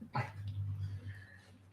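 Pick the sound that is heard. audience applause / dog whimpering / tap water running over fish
dog whimpering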